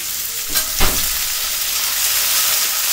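Large-cut onion stalks hit hot oil in a pan and frying for mullet fish, a sharp burst of stirring scrapes followed by a steady close sizzle with no talking.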